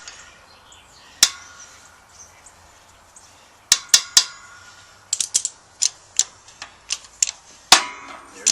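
A press forces a U-joint cap through the yoke of a rear drive shaft on a Jeep Wrangler YJ, sounding as sharp, close metallic cracks and snaps, sparse at first, then coming in quicker irregular bursts.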